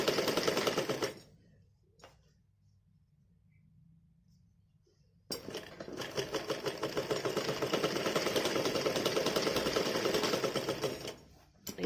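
A sewing machine stitches the shoulder seam of a Holi dress for a six-month-old baby, running briefly, pausing in near silence for a few seconds, then whirring steadily and rapidly for a long stretch before stopping.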